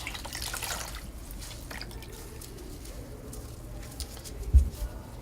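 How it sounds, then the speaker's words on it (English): A washcloth is rinsed with water, producing faint dripping and trickling close by in a quiet room, a little fuller at the start, then thinning to sparse drips. "So now I'm going to rinse."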